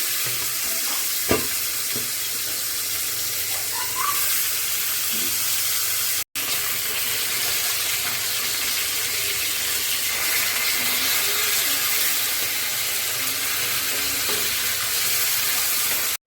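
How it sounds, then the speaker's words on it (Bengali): Tilapia fish frying in hot oil in a pan, a steady close sizzle and crackle running throughout with a brief break partway, occasional clinks, no talking. "মাছটা ভাজা প্রায় হয়ে গেছে, এক সাইড ভাজা হয়ে গেছে, আর এক সাইড একটু ভেজে নেই।"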